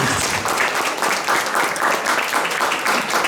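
An audience at the opening ceremony of an art exhibition in a gallery breaks into applause, a full, steady wash of many hands clapping at a fairly loud level throughout.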